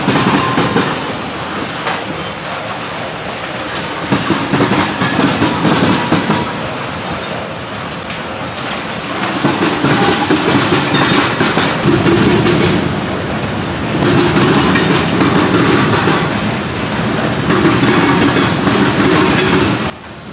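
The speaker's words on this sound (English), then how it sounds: "As the train continued to roll on by, there were some interesting autorack cars on the end." A freight train rolls past steadily and loudly, a continuous rumble with rhythmic clattering of wheels over rail joints, swelling and easing over time, with autorack cars at the end.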